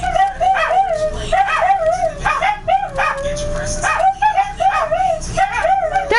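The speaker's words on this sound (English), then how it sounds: "maybe Brian, can you get the dogs to be quiet?" Several dogs bark, yip and whimper indoors in loud repeated bursts close by, with high whining calls between the barks and a person's voice occasionally under them.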